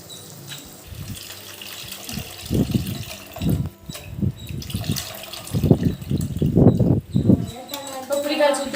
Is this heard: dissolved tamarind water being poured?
yes